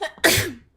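A single loud, close sneeze with a short intake before the sharp burst, heard on its own in a quiet room.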